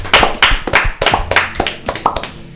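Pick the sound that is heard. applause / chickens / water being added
applause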